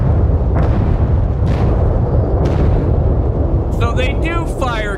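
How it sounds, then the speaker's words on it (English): Cannons fire at the player in the video game SAND, heard as repeated dull booms and bursts within a dense, loud rumble of game sound, with brief voice-like chatter near the end. "So they do fire cannons at me."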